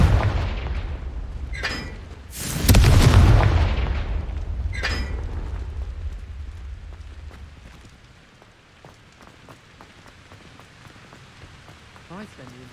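A Confringo explosive spell from Hogwarts Legacy goes off in a loud, booming blast with a rumbling low crash and a crackling burst, then fades into a quieter ambient bed.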